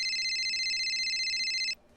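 A steady electronic phone ringtone trills continuously at a high pitch, then cuts off abruptly near the end, leaving faint room noise.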